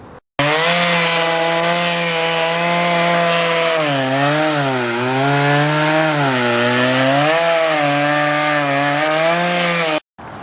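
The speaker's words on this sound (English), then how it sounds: "the saw is working great" A small chainsaw cuts through a fallen, rotten tree, its engine whining steadily for about ten seconds with the pitch dipping and rising as it bites the wood, loud and close, no talk.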